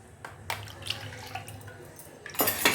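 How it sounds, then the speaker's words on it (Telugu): Water pours and splashes through a strainer while a horse gram (ulavacharu) mixture is filtered in a home kitchen. The splashing comes in short, close bursts and grows louder and fuller toward the end. "వాటర్ వేసుకొని వడగట్టుకుందాము, ఫిల్టర్ చేసుకుందాం"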